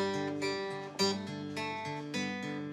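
A live band quietly opens a song with a soft, intimate intro of sustained, melodic harmonic notes that shift gently, fairly faint, with no singing or talk yet.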